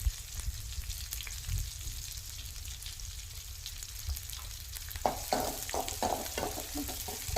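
Food sizzles in a pan over low flame with a soft crackle while tempering with asafoetida for coriander leaf paruppu masiyal, then sharper scraping and stirring sounds join in near the end.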